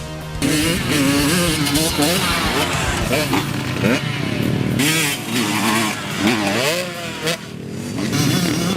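Motocross dirt bike engines revving on a rough terrain course, loud rasping bursts that rise and fall in pitch repeatedly, with a voice speaking over the engines throughout.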